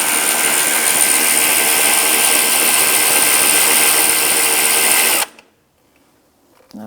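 Impact gun or power ratchet on a 12mm socket loosening the AC belt pulley nut on a 2004-2009 Subaru Outback, a loud, steady, close whirring rattle lasting about five seconds before cutting off abruptly.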